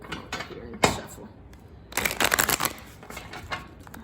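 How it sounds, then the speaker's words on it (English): Tarot cards being shuffled by hand close up, a sharp snap followed by a longer burst of rapid riffling flutters and a few softer card taps, with no talking. "Let me come over here and shuffle."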